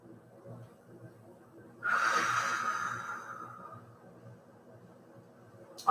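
A single deep, breathy exhale starts abruptly, holds strong, then tapers off, close to the listener against a quiet background.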